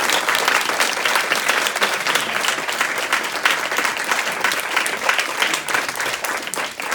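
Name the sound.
audience applause for a speaker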